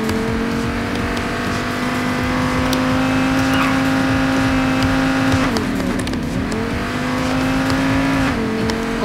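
Car engine in Payday 2, a sustained loud drone holding a steady pitch, dipping and shifting around the middle before settling again, with no talk over it.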